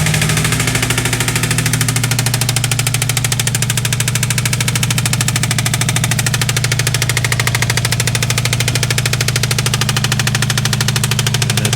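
A Subaru WRX engine idles with a steady, loud rhythmic knocking that seems to come from the rear passenger side, running unbroken throughout, close up with no voices.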